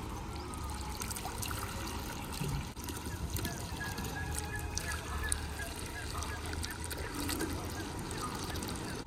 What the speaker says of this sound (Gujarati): આ મોટરથી ઉપર પાણી જશે અને આ પછી અહીંયા આપણે હાથે ભરી નાખશું